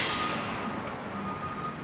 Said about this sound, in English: And that's the air brake.